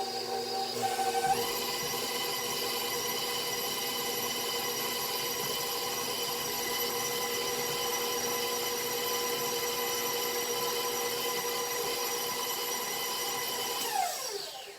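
Electric kitchen mixer running steadily for about thirteen seconds, blending peanut butter cookie dough, a loud continuous motor whine with a sharp start and a winding-down stop near the end.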